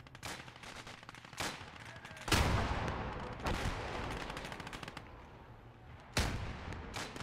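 Airstrike and artillery explosions from the Gates of Hell war game boom in a series of heavy blasts, several sharp hits ringing out over a steady rumble of distant fire, with no voices.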